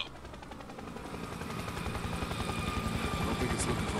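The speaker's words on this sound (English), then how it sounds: "Incoming helo." A helicopter approaches in the video game Spec Ops: The Line, its rotor beating in a fast rhythmic chop that steadily grows louder over a few seconds.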